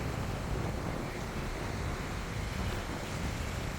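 Surf washes steadily onto a man-made beach in Dubai, a continuous rushing wash of water with wind noise buffeting the microphone and no distinct breaks between waves.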